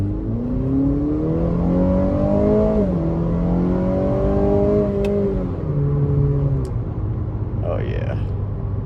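A 2021 Acura ILX A-Spec engine pulls in sport mode with a steady droning rise and drop in pitch as gears change, heard from inside the cabin with a short remark near the end.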